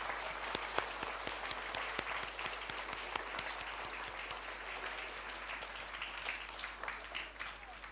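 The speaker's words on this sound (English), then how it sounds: "So could we give a big clap, please, and children you as well, for the teachers and TAs from Key Stage 2." An audience of children and adults at a school show applauds the Key Stage 2 teachers and teaching assistants. The clapping is continuous and dense for the whole stretch, with individual sharp claps popping out of the steady roar.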